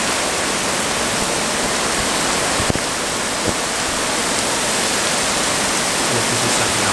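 Floodwater from the DANA storm in Murcia rushes in a steady, loud, dense roar that does not let up, with a couple of brief knocks along the way.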